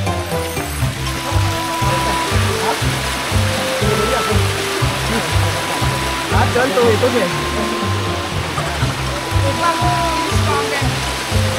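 Rushing water from a small monsoon waterfall at Korigad fort near Lonavla, a steady broadband roar throughout, with a repeating musical beat and tones layered over it.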